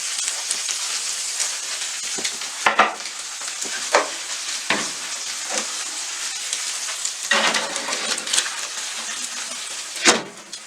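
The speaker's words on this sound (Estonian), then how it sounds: "samal ajal praeme siis snitslid ära" Schnitzels fry in a pan of hot oil, a dense continuous sizzle and crackle with sharper bursts and spatters as the meat is moved or turned, loud and close with no talk.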